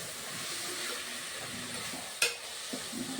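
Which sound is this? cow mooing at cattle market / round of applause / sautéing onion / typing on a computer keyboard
sautéing onion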